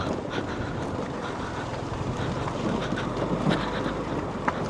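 Steady mountain wind roars and buffets the microphone with a constant low rumble, no voices, loud and continuous throughout, in the Aydın mountains of Turkey.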